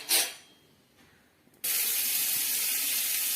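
Chopped onion hits a hot oiled pan of roasted peanuts for South Indian poha, setting off a sudden loud, steady sizzle after a short quiet pause, close and continuous.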